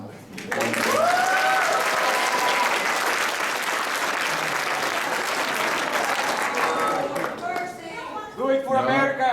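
Loud, sustained applause fills a convention panel room at Phoenix Comicon during a Batsu game show, with cheering and whoops over the clapping and voices calling out near the end.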